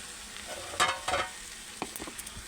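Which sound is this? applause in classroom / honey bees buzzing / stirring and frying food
stirring and frying food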